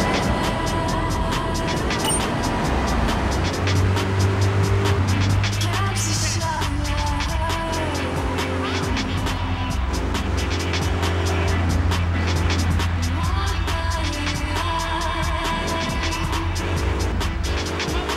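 Car engine droning steadily while driving in Grand Theft Auto 3, with rock radio music playing over it and occasional talk throughout.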